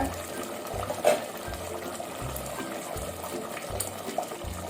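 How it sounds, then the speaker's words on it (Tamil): Measured water pouring steadily into a pot for dum biryani, with a low rhythmic pulsing hum underneath and a few faint clinks. "இதுக்கு தேவையான தண்ணி நம்ம அளந்து ஊற்றிக்குவோம்"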